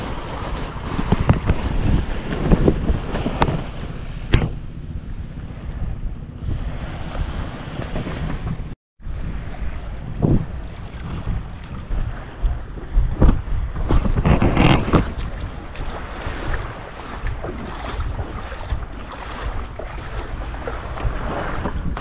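A fishing boat's 4DR5 engine drones steadily at sea over wind buffeting the microphone and splashing water, with a brief dropout midway and no voices.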